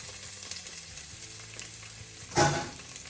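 Onions sizzling in olive oil in a pot for a sweet potato chicken stew, a steady close fry with a brief louder burst of hiss near the end.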